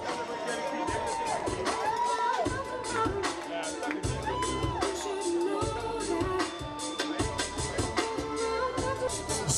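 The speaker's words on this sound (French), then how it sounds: "Et on applaudit très fort." A lively crowd at a festive gathering cheers and shouts in a dense, continuous roar, with pulsing low thumps and overlapping voices throughout, loud and close.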